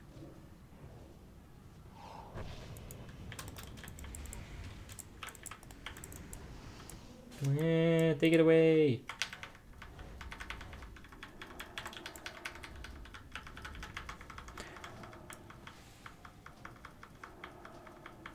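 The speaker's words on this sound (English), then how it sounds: "the problem is that the keyboard is still too loud" A loud computer keyboard clatters in quick, irregular bursts of clicks throughout a voice chat during an online game raid, fairly faint and close, with people talking and a brief tonal chime in the middle.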